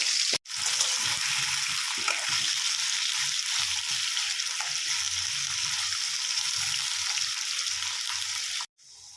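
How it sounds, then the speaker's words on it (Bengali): Steady, dense sizzling of potatoes frying in hot oil with whole garam masala, loud and continuous, with faint low clatter of stirring underneath. "এরপর তেলের মধ্যে আলুগুলো দিয়ে ভেজে নিতে হবে"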